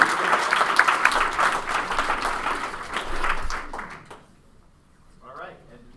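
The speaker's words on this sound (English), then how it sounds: "give them a round of applause" Audience at a hackathon project demo day breaks into a round of applause, a dense clatter of many clapping hands that fades out after about four seconds, followed by a quiet voice.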